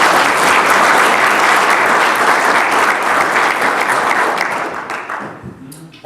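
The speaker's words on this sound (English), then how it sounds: "So let's give them a round of applause." An audience applauding Spiritual Life Center staff at an event, dense sustained clapping from many hands that holds steady then thins and fades out near the end.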